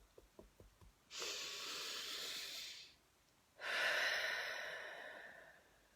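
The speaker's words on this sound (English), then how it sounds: "Okay, deep breath." Two slow, deep breaths during a guided relaxation exercise, a long airy inhale followed by a long exhale, soft and close in an otherwise quiet room.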